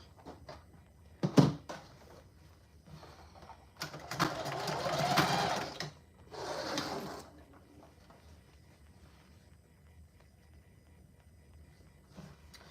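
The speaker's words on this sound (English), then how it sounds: "I'm just sewing this with a 1/4 inch seam allowance." Sewing machine stitching a quarter-inch seam on a tote bag, heard as a couple of short whirring bursts, the longest lasting about two seconds, with quiet handling thumps and silence between them.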